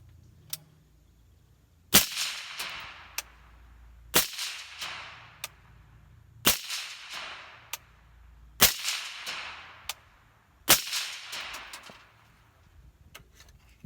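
Five evenly spaced rifle gunshots, fired to test a KAK K-SPEC muzzle device and KAK Industry bolt carrier group, each a sharp loud crack followed by a fading echo, with faint clicks in between and no talking.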